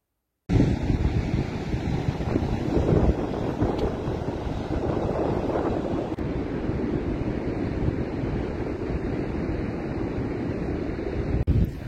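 Wind buffets a new camera's microphone beside a rough sea at Grand Crohot near Bordeaux, a loud constant rumbling roar that begins abruptly and holds steady, with surf blended beneath.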